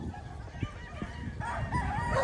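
Game farm roosters and chickens in Tagaytay cluck and call continuously nearby, a busy layered flock with overlapping crowing voices.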